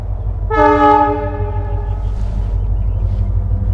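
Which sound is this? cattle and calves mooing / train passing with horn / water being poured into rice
train passing with horn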